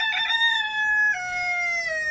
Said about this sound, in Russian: Девочки, курочки.